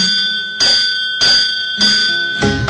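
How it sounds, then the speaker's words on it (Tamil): A Ganapati temple bell rings out loud and clear, struck about four times at a steady, unhurried pace, each strike ringing on and fading before the next, with no voices. "கணபதி கோயில் மணி ஒலிக்கே"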